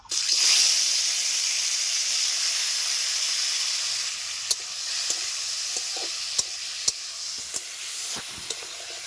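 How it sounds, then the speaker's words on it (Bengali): Steady, loud hissing sizzle of small spiny eels (baim fish) frying in hot oil, with scattered sharp pops and crackles growing more frequent toward the end. "তেল গরম হয়ে গেছে, মাছগুলিকে আমি হালকা ভেজে নেব"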